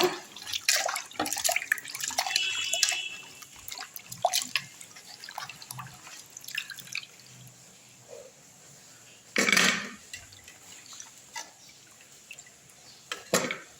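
Moringa drumstick pods are rinsed in water in a kitchen vessel, giving close, irregular splashes, drips and light clinks, with one louder slosh partway through.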